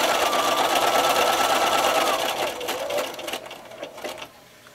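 A sewing machine runs steadily, stitching around stripes on a t-shirt for a Temmie costume, then slows and stops in short bursts before going nearly quiet; close and clear, no talk.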